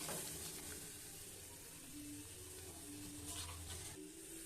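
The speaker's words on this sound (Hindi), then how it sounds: "और अब हम इसे मेल्ट होने तक पकाएंगे अच्छी तरीके से ताकि ये मेल्ट हो जाए गुड़ इसके अंदर" Jaggery and ginger cook in a pot, a soft, steady sizzle and bubbling simmer heard close up, with faint low hum beneath and no speech.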